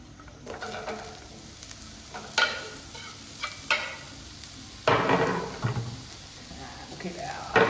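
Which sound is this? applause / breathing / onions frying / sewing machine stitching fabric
onions frying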